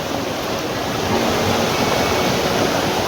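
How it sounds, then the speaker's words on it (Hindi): A waterfall in Meghalaya roars close by with dense, unbroken rushing water, loud and steady throughout, with no voices. "पानी आ रहा है और ये इधर वाटरफॉल बना रहा है"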